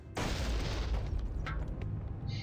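A barrel blows up after being shot in the Dungeon Siege game, a sudden loud boom that rumbles and decays over a couple of seconds, with faint high clinks trailing at the end.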